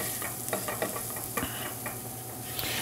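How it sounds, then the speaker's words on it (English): Spices being stirred into onions frying in a pan for taco meat: a steady close sizzle runs throughout, broken by soft scraping stirs at irregular intervals. "I'm going to mix those into my onions."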